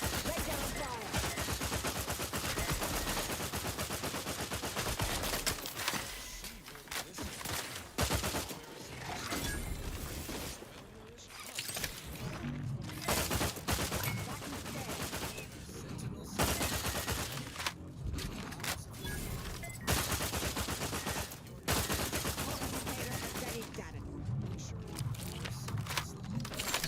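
Dense, sustained gunfire from a video game battle, with bursts of automatic fire and mechanical clatter running loud and nearly continuous throughout, briefly easing in a few short gaps.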